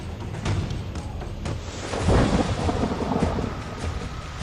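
Heavy monsoon rain pours steadily during landslides in Uttarakhand, with a deep rumble of thunder swelling midway through. The downpour stays dense and close, with no voices.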